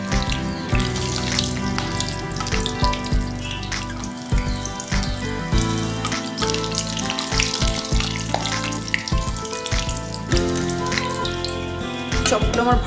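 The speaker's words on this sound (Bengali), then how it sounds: "এইভাবে আমি ভেজে নেব।" Spinach leaf chops sizzle and crackle steadily in hot oil for a pakora snack, a dense continuous frying hiss with scattered pops and clinks, no talking.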